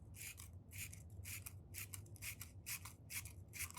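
Spring-loaded scissors snip through paper in a quiet room, a steady run of about ten short, crisp cuts evenly spaced and heard close up over a faint low hum.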